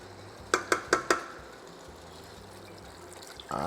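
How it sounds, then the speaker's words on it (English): Four quick clinks of a spoon against a pot while stirring geera pork, evenly spaced and close, followed by soft moist shuffling and a louder scrape at the end. "Just going to give a little stir."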